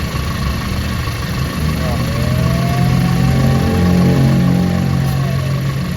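The VGT turbo diesel engine of a Hyundai Starex that smokes intermittently, running at idle and rising into a steady rev with a faint turbo whine swelling and fading, as someone talks over it.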